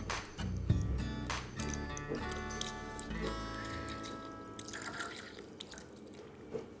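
Water is poured into a small toy doll-food mixer, with trickling, dripping splashes and a faint hollow plastic tone as the stream fills the container over several seconds.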